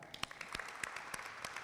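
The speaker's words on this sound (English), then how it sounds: "Another clap." Quiet applause for a student at a school graduation ceremony, a soft, scattered patter of many hands clapping from a small audience, with a few sharper claps nearby.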